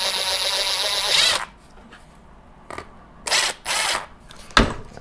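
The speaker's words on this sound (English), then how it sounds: "Oop, I forgot to drill out that hole. Thankfully, I still got the drill down here real quick." A power drill whines as it bores out a hole in a multi-pad rocket launch controller, running in several loud bursts of varying length with short pauses and mechanical clatter between them.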